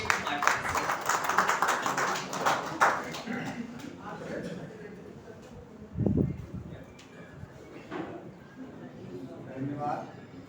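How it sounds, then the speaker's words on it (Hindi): An audience at a journalists' Holi gathering claps to welcome a poet, scattered applause rising early and then thinning, with voices talking over and after it. "अब जोरदार तालियों से स्वागत कीजिए"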